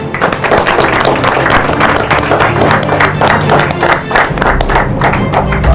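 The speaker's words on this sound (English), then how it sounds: "Give yourselves a round of applause." A crowd applauds loudly at an interschool youth fitness challenge event, the dense clapping continuing steadily for several seconds without pause.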